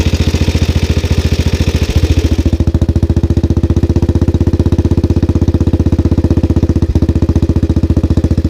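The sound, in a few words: vintage 1929 motorcycle engine running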